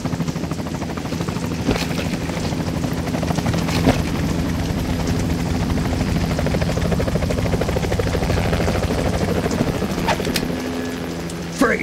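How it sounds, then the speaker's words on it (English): A helicopter in the Metal Gear Solid 2 tanker chapter, a loud continuous rotor chop with a steady pulsing beat throughout, accompanied by faint background game sounds. "You will be on the helicopter out of here now."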